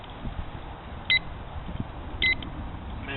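A handheld timer gives two short, thin electronic beeps about a second apart, faint over steady outdoor wind noise.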